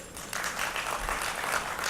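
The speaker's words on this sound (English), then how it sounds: "A round of applause, please." Audience applause at a conference panel on media and the arts, a soft, fairly distant spread of many hands clapping that holds steady throughout.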